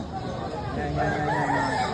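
An off-color gamefowl rooster crows at a farm in San Carlos, Pangasinan, with a drawn-out call rising over steady background noise and faint babble.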